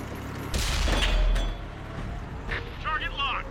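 A tank cannon fires on the move in a video game, one heavy booming blast with a rumbling tail, followed by fainter mechanical and electronic sounds.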